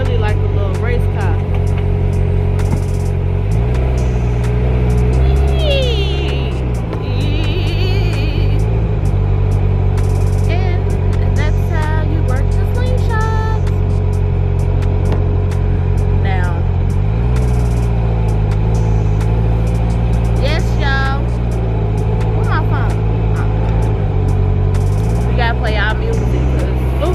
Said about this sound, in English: This thing really like a little race car.